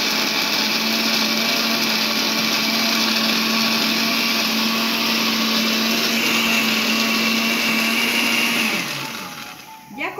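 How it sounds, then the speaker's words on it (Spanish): Electric blender running steadily at high speed while mixing a capulín fruit drink, a loud continuous whir for about nine seconds before the motor winds down. "para que no se nos espanten y se digan, ¡ay, tanta licuadora!"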